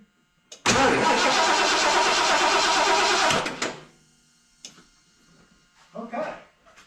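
A 1975 Lincoln Continental Mark IV engine cranks loudly and close up for about three seconds in a steady, dense churning burst without catching. It then cuts off abruptly, followed by quieter knocks and brief speech.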